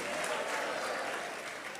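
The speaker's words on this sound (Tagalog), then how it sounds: "Palakpakan po natin ang ating mahal na Panginoon" A church congregation at a Sunday general service applauds together, a dense, even wash of many hands clapping that sounds soft and somewhat distant, lasting just under two seconds.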